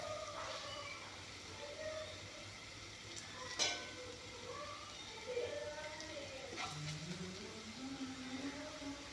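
Boiled taro pieces drop into a hot pan and sizzle softly and steadily, a faint frying hiss with a few sharper crackles.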